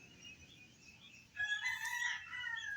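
On a free-range chicken farm, a rooster crows loudly partway through, a single drawn-out call rising over faint background quiet.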